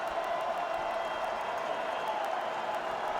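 A football stadium crowd at Robertson Stadium rises in a steady roar of cheering and scattered clapping, a broad distant wash of noise holding evenly across the moment.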